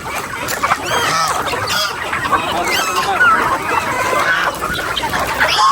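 Farm chickens, mostly hens, cluck and cackle continuously at close range as a busy flock, with occasional sharper calls over a noisy outdoor background.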